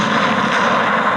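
Cannon salute fired from the Escuela Militar de Cadetes during a presidential inauguration in Colombia, one loud booming blast with a rumbling roar that fills the short moment, no voices.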